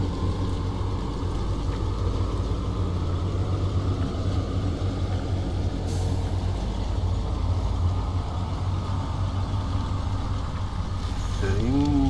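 A heavy truck engine in SnowRunner drones steadily at a loud, even pitch while shifting into high gear, with a faint rising whine near the end and no speech.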